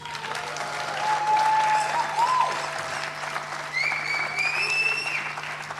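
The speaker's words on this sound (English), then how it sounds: "Another round of applause, please." After a film screening, an audience applauds the cast and director, a continuous wash of crowd clapping with whistles rising above it and a low steady hum beneath.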